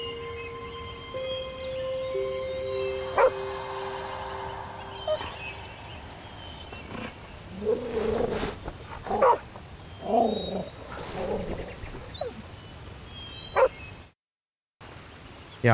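A dog in the hidden-object adventure game Nightmares from the Deep 3 barks in several separate yelps over an ambient background of tones and hum, with a short silent gap near the end.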